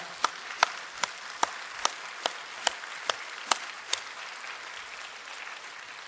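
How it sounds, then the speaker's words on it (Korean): Church congregation applauding in rhythmic unison, about ten sharp, evenly spaced claps over a steady room murmur, moderately close and fairly loud. "하나님께 영광의 박수 올려드리십시다"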